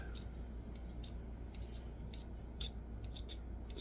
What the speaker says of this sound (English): I'm going to scrape that carbon off.